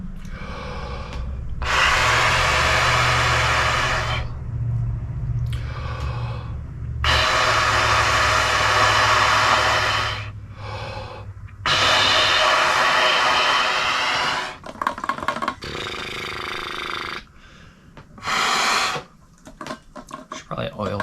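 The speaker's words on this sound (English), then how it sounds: "So I just breathe in and breathe all the air out through the horn." Air blown through a trumpet in long, hushed rushing breaths lasting several seconds each, separated by short pauses, up close with a few shorter puffs near the end.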